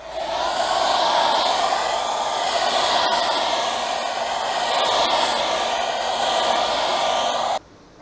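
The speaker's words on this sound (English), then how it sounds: "I'm definitely going to use a blow dryer" A blow dryer running steadily to dry UV sealant on a Jeep Grand Cherokee WJ headlight, a loud continuous whooshing hiss with slight wavering airflow, cutting off abruptly near the end.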